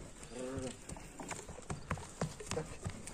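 Hooves of a well-trained horse clip-clop in a steady walking rhythm at close range, with a few brief vocal sounds at the start.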